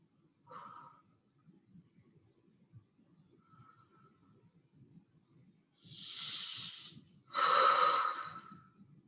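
A person breathes deeply during a Pilates stretch, with two loud, airy breaths close together near the end over a faint low background hum, and a few softer sounds earlier.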